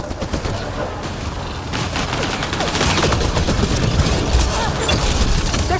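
Sustained gunfire in the Mass Effect: Andromeda video game, a dense barrage of rapid shots and mechanical clatter that grows louder and heavier as it continues, with no talking.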